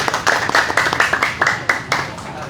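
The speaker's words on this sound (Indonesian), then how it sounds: "Tepuk tangan dulu untuk teman-teman aparat yang hadir." Scattered applause breaks out at a Partai PRIMA party gathering in Solo, a small group's uneven, separate claps with distinct bursts, fairly close and loud.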